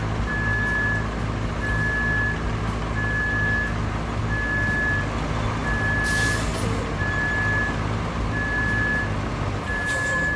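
A heavy truck in the Roadcraft video game, working at a water crossing during road building, idles with a deep steady diesel rumble while a reversing alarm beeps in a regular, evenly spaced rhythm throughout, with a brief hiss of air near the middle.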